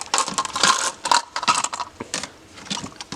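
Glass stones and marbles jingle and clatter inside a pink plastic container, shaken in quick bright bursts of rattling clicks, close and loud with short gaps between shakes.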